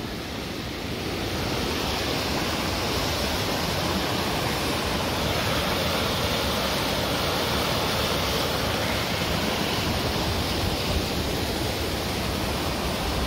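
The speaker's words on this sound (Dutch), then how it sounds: "Daar staan we dan, boven aan de waterval." Highest waterfall in Sweden, heard from the top as a loud, constant rushing roar of falling water, broad and unbroken throughout.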